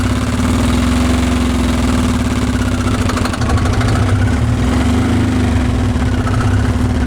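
A 2007 Harley motorcycle fitted with a turbo diesel John Deere engine runs on a dyno, making a loud, steady, close-up drone with a constant low hum and no break.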